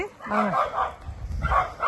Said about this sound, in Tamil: ஒரே நாய் சண்டையாக இருக்குது